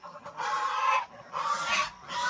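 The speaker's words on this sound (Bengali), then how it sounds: "রাজহাঁস, এদের গলাগুলো বেশি লম্বা হয়।" Geese in a Sundarban village yard giving two long, loud nasal honks in succession and starting a third, close by and clear with no talking.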